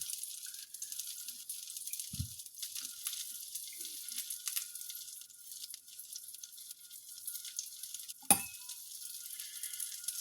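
Fish cakes frying in a pan, a constant bright sizzle throughout with a couple of soft knocks and one sharp clink of a utensil against the pan.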